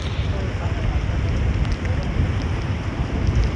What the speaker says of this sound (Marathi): पाऊस थांबण्याचे नाव घेत नाही